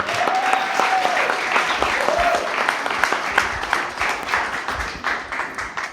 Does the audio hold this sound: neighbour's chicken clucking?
no